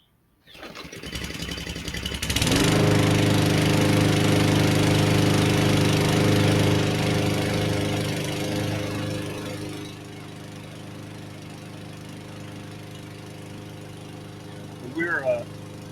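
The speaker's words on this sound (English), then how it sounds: "So let's crank up the lawnmower." A backyard lawn mower engine cranks, catches and roars up to a loud steady drone, then drops to a lower steady running hum. It runs close by and alone, with no talking.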